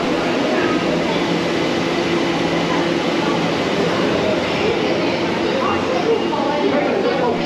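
A Tokyo metro train pulls away from a platform with glass safety doors, its steady rolling rumble and hum filling the station at moderate level while a voice talks over it.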